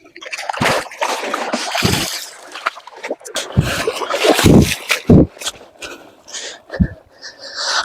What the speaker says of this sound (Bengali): জাল আসলে আস্তে আস্তে উঠাইতে হয়, ছুটে না যায়, সেজন্য।